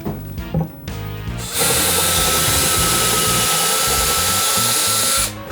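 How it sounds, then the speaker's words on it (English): A power drill with a countersink bit sized to the screw head bores screw holes into wood for a nest of tables. A couple of short bursts are followed by a steady, loud, high whine that runs for several seconds, then stops. "we're going to use a drill bit, which is the size of the screw head"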